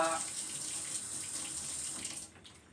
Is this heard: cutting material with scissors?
no